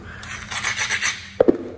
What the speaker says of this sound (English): Better grind that, huh?